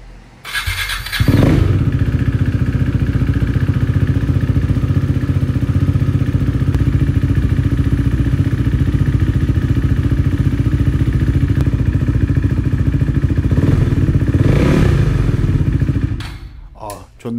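A KTM Duke 390 single-cylinder motorcycle engine, freshly fitted with a new spark plug and with its fuel tank lifted, starts and runs at a loud, steady idle for about fifteen seconds before shutting off.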